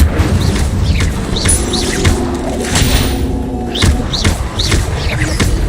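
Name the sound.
Incendio fire spell in video game Hogwarts Legacy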